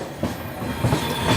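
A train arriving at platform 7 of an Indian railway station, a low rumbling roll with faint clattering of the cars, brief and steady.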